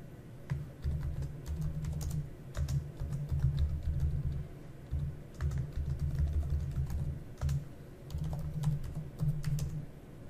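Keywords typed on a computer keyboard in an office software session, a steady run of soft, close key clicks in bursts with short pauses, quiet and with no voices.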